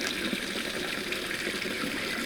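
A small garden waterfall pours steadily into a pond beside a vegetable patch, a continuous close splashing rush with no breaks.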